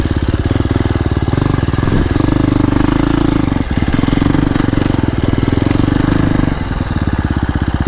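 A 2025 KTM 350 XCF dirt bike runs on a singletrack trail. Its single-cylinder engine makes a loud, close, rapid putter that rises briefly, then eases back to a steady low-speed chug.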